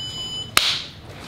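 A rocket avionics board gives a few thin, high electronic beeps, then a single sharp crack rings out close by and fades quickly against a quiet room.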